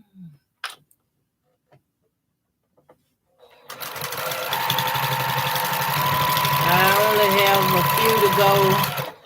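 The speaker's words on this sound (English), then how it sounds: "today I'm just sewing to do some finish up on my strip sets" A sewing machine stitches quilt strip sets, starting after a few seconds of near silence with soft clicks, then running steadily and fairly loud with a whirring motor and rapid needle ticking.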